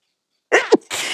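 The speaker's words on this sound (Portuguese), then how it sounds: "Deu um espirro aqui, me desculpem." A single close, loud sneeze from a person at a crochet tutorial, with a sharp intake then an explosive burst and a hissy tail.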